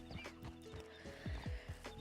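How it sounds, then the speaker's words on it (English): A wild horse in the open-world western game Red Dead Redemption 2 gives a wavering whinny and snorts while hooves clip-clop over the ground at close range, with no talk. "a wild horse has appeared horses"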